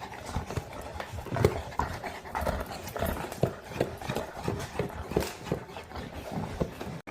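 Big mastiffs gnaw on 12-inch beef cheeks up close, with steady wet crunching and clacking in an irregular rhythm, plus some panting and no talk.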